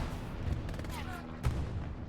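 Gunfire rings out in the World War II shooter Hell Let Loose, a few short distant reports and muffled booms under low battlefield rumble, with a faint tonal whistle in between.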